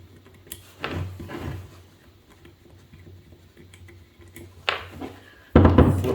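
Metallic clinks and scrapes as 10mm bolts are pulled from a snowblower during a friction drive replacement, a few faint taps early on and a louder clatter of metal near the end.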